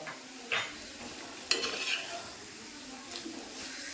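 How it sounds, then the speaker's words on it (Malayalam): Masala being stirred and fried in a pan for a papaya curry, soft scraping strokes of a spoon over a faint sizzle, with a few sharper clinks against the pan, close up. "ഇതെല്ലാം കൂടി ഇട്ട് ഒന്ന് കൂട്ടി ഇളക്കി"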